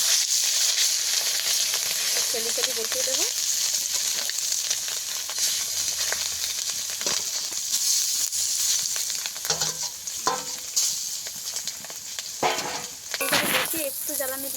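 Egg frying in a little oil in a hot pan, a continuous bright sizzle with occasional stirring scrapes and utensil taps, while someone speaks briefly.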